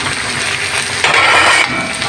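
Meat for laing frying in a hot pan, a steady close sizzle with a brief louder surge partway through and faint clinks of a utensil against the pan.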